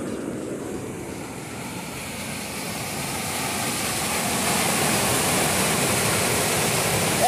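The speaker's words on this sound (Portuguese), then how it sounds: "É barulho de cachoeira mesmo." Floodwater rushes through a swollen creek after heavy rains, a steady, dense roar like a waterfall that swells slightly louder toward the end, with no voices.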